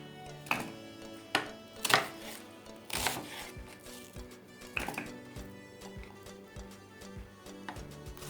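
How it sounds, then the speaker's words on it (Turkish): Several sharp knife chops on a cutting board, irregularly spaced and fairly close, with quieter knocks and clatter between them. "Bir soğan doğrayacağım şimdi."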